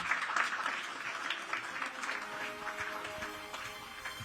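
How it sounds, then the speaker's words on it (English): A hall audience applauds a living legend award at a hotel awards ceremony, with moderate sustained clapping and faint background voices that ease off slightly as it continues. "Can we hear a huge round of applause for the award for the living legend?"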